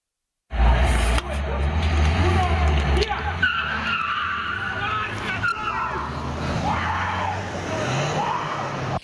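Cars skidding during an illegal night street race in San Liberale, Treviso: loud, sustained tire squeal and roaring engines continue almost throughout, recorded from nearby without any clear talking.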